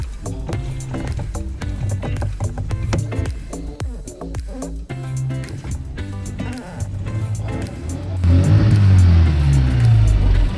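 A race yacht's small engine runs on the North Sea after its carburettor fuel bowl was cleaned of gunk, a low rumbling drone under clattering and knocking, swelling louder toward the end.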